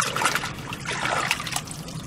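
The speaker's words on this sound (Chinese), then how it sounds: "拿水洗一下" Water runs and trickles over freshly dug wild spinach roots, also called tu da huang, as they are washed outdoors, giving a continuous close splashing and dribbling with no voices.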